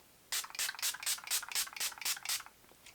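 Setting spray misted onto a face in about nine quick, crisp hissing bursts at a steady rhythm, close and fairly loud with no talking.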